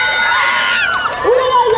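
An audience at a cosplay parade during GeekFest in Bordeaux shouts and cheers. It is a short, loud burst of high-pitched whoops and excited cries from the crowd, close by.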